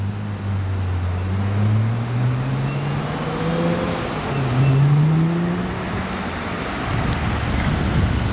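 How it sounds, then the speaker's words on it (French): A Lamborghini Temerario with a V10 engine drives in Monaco, its engine note rising and falling in smooth sustained tones over steady road noise, fairly close and with no talk. "Quelle voiture, quelle époque, quel moteur V10."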